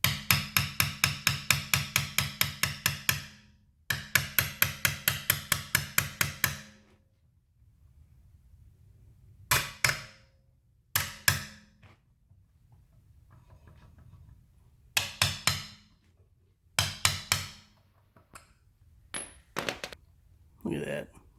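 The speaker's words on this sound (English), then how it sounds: "you'll have to make a sacrificial socket that you just beat on there" A sacrificial socket is hammered onto a stuck lug nut during a car brake job. Two long bursts of rapid, loud, close metallic blows give way to scattered single strikes and short volleys.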